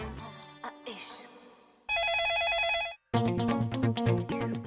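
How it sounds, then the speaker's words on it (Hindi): A telephone rings with an incoming call to a 104.8 Ishq FM radio show, a steady warbling electronic ring standing alone for about a second amid studio music and sounds. "तो अब हमारे पहले कॉलर का कॉल आ चुका है, हम फोन उठाने जा रहे हैं।"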